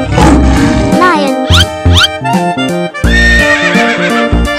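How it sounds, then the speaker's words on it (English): A horse whinnies several times in quick succession in a 3D animal video game, loud and close, with rising and falling squeals over a dense, layered background mix. "Horse."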